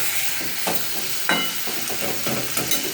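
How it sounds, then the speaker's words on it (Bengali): Tomato sizzles steadily in hot oil in a pan while a spatula stirs it, adding a few louder scraping strokes against the metal over the continuous frying hiss. No one speaks. "এবার একটু নেড়ে দিই"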